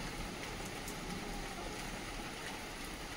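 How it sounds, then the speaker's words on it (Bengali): Heavy rain pours down during a storm as a steady, dense hiss that holds at an even loudness throughout, with no voices. "প্রচন্ড ঝড় বৃষ্টি"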